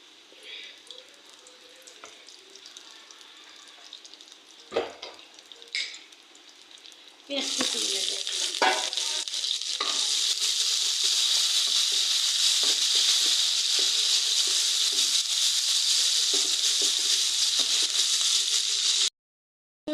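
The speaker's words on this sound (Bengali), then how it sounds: "এখন শাকগুলা বাগার দেব বাগার মানে তেলানি দেবো" Leafy greens hit hot oil for tempering, erupting into a loud, steady sizzle that holds for several seconds after some quieter clinks and kitchen sounds.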